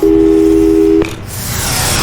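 A telephone line tone from a hung-up call in the video game Portal 2 holds steady and loud for about a second, then cuts off into a click and a hissing rush of noise.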